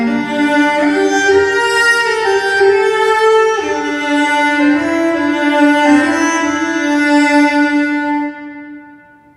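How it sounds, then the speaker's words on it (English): Sustained cello notes rendered through a simulated room acoustic model, a smooth bowed melody with several note changes ringing with reverberation, loud and alone before fading at the end. "And the cello will sound a bit better too."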